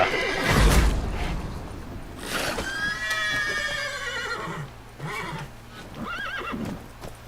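Roach, a horse in The Witcher 3, gives a loud, drawn-out whinny followed by shorter neighs, with hoof clops and game effects around it.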